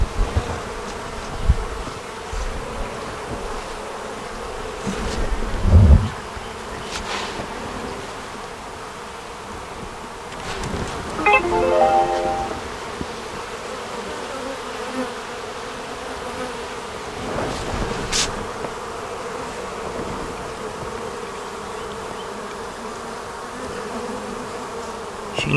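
Steady buzzing of many honeybees close by at an open hive, a continuous droning hum with a few louder passes as individual bees fly near.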